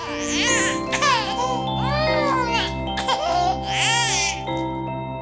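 A baby cries in a series of wailing, rising and falling bursts, close and fairly loud, with brief pauses between cries and no adult talk.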